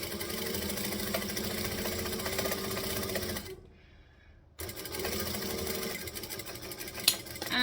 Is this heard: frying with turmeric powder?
no